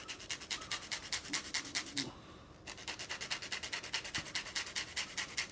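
A fresh serrano pepper is grated by hand over a sauce in rapid, rhythmic rasping strokes, close and fairly loud, with a brief pause midway before the scraping resumes.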